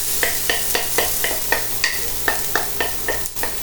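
Peppers, onions, garlic and bacon stir-frying in oil in a pot over medium-high heat, a steady sizzle broken by a regular run of close scraping stirs, with no speech.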